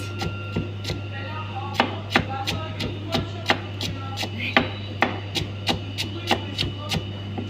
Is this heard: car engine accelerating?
no